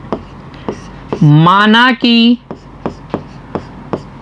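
A pen writes out the answer to a Class 10 maths geometry question about a 6-metre pole, with sharp regular tapping strokes on paper continuing around a short stretch of spoken Hindi.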